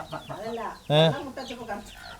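A chicken, part of a flock of black birds kept at home, gives a loud squawking cluck in the middle, surrounded by softer clucks and a faint voice.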